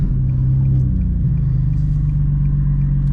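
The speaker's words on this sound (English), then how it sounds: "it's nice when you figure out how to get these cars to burble. Just tap the gas for a second" A turbocharged 2010 Nissan 370Z Nismo idles with a deep, steady exhaust rumble, then a quick blip of the throttle lifts the engine note before it settles into a low burble, heard from inside the car without talking.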